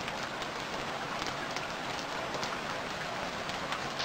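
Steady rain falls in the survival video game Stranded Deep, a dense, even hiss that holds constant throughout with no talking over it.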